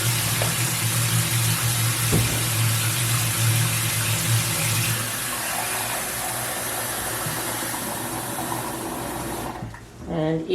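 Water runs steadily from a tap into a pot of vinegar pickling brine for canned cauliflower and carrots, a continuous close hiss that ends abruptly near the finish.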